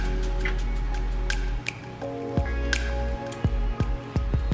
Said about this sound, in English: you're gonna add in about 1 tablespoon full of fresh honey